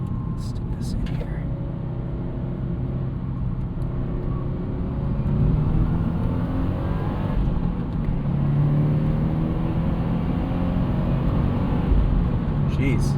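A 2014 Subaru WRX hatchback with a turbocharged boxer engine and five-speed manual pulls hard under acceleration, a steady loud engine roar and rumble heard from inside the cabin that rises slightly partway through.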